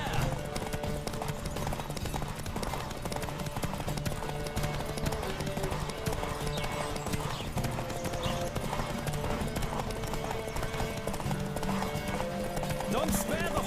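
Horse hooves gallop in The Witcher 3 game, a fast continuous clip-clop rhythm held loud and close throughout, with occasional voices talking over it.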